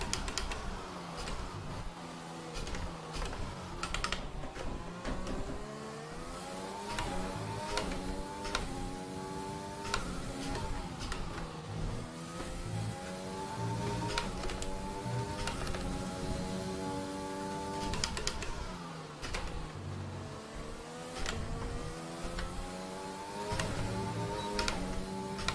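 A racing car laps the Canada circuit in a league racing video game, its engine note rising and falling continuously through gear changes and braking, loud and close with no talking.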